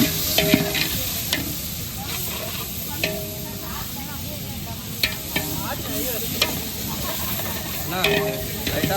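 Oil hisses and sizzles steadily as food fries in a pan, with scattered clinks and scraping stirs over a continuous loud crackle.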